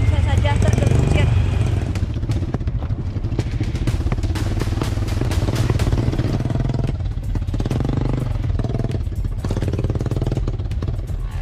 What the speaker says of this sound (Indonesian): Jalanan tanah yang licin dan rusak parah membuat ban depan motor yang kami tumpangi beberapa kali tergelincir